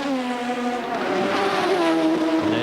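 A Brabham BMW Formula One car, driven by Riccardo Patrese in practice at the 1986 Australian Grand Prix, roars past with a loud, high-revving engine whose pitch rises and shifts through gear changes.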